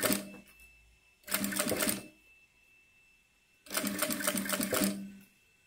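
A sewing machine stitches piping onto synthetic material in two distinct runs of rapid, even clatter, each about a second long, separated by quiet pauses.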